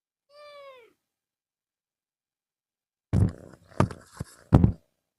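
A cat gives one short, clear meow on a hillside temple path while trailing behind walkers, followed after a pause by a few close thumps and brushing sounds.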